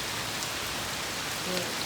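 Steady monsoon rain pours down near a roadside in Kerala, a dense even hiss of drops hitting surfaces all around, with no other sounds standing out.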